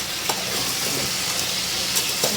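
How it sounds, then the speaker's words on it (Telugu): Ground paste stirred and frying in a pan on a home stove, a steady close sizzle with occasional scraping stirs throughout, no talking. "మరి బాగా ఉడుకుతుంది, బాగా ఫ్రై అవుతుంది."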